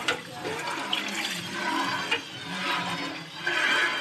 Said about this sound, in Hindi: इसके अंदर पानी आपने हस्बे ज़रूरत डालना है